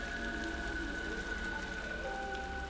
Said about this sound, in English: standing in the rain is making me cold.